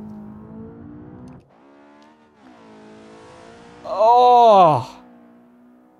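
A modded Hirochi Mistral car engine in the video game BeamNG hums and shifts pitch, then surges into a loud, high revving roar that sweeps up and down briefly before dropping away; a voice exclaims once.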